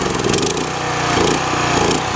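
Generac pressure washer engine running at high speed, a loud continuous droning roar with steady mechanical rattle throughout.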